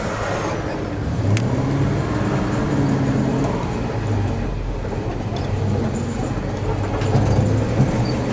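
A 1967 Ford F600 truck rumbles along with a steady, deep engine drone heard from the cab, the tone shifting slightly as it takes a big turn in second gear.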